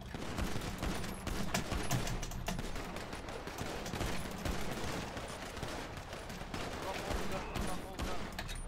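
Rapid bursts of gunfire in a role-play video game fill the whole stretch, dense and loud, with voices talking over the shooting.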